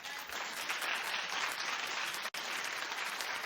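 A television studio audience claps steadily in a broad, even wash of applause that cuts out for an instant near the middle and then resumes, with no voices over it.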